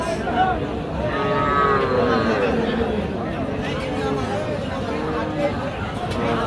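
Cattle and young calves low repeatedly at the Raniganj livestock market in Ghoraghat, Dinajpur, with several drawn-out moos rising over a steady crowd murmur and market chatter.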